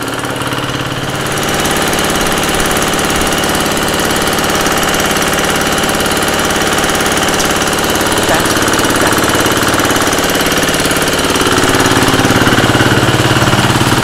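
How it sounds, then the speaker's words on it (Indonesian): A machine engine runs continuously at a steady idle-like drone, loud and close, on an organic rice and fertilizer farm, with a slight rise in intensity near the end and no talk. "nunggu mesinnya berhenti dulu"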